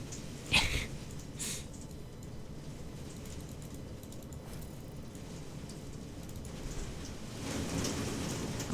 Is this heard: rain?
yes